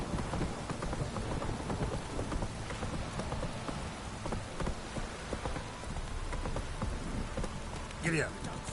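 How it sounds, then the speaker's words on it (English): A heavy rain downpour from The Witcher 3 video game hisses steadily, with dense patter and scattered sharper drops, and a brief high sound near the end. "This downpour's a bastard in it."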